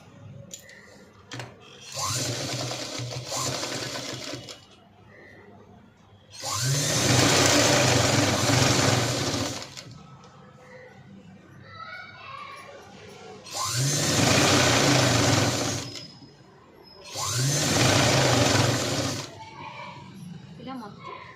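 A sewing machine stitches a pencil cut pant in four separate bursts of whirring, rattling stitching, close and loud, with quiet handling sounds and pauses between runs.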